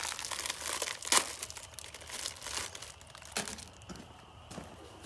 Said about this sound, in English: And I'll scrub what I can with water.